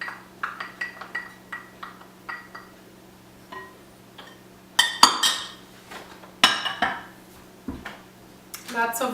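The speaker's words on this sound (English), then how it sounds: "Lots of dishes always, lots of dishes to wash after cooking." Dishes, pots and cutlery clink and clatter repeatedly in a home kitchen while a cheesecake is being made, with sharp scattered knocks and chinks at close range, some louder bursts, over a steady low hum.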